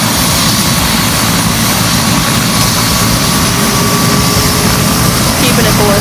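Bell 206 Long Ranger helicopter turbine rolling up, a loud continuous roar and whine with faint rising tones, steady and close, with a voice talking under it.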